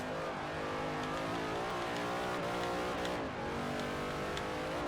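Holden V8 supercar in Forza Motorsport 4, engine roaring loud and continuous at high revs, pitch wavering up and down through gear changes and corners with a brief dip, no speech.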